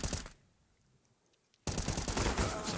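Rifle gunfire in a Counter-Strike match: a loud burst, then a quiet gap, then sustained rapid firing, with no voices.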